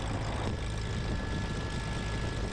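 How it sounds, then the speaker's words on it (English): A King Air propeller plane taxis toward runway 5 for departure. A steady, rumbling engine and propeller drone fills the cabin, low and constant, with no talk over it. "King Air 76, Seymour Papa is taxiing via Alpha down to runway 5 for departure"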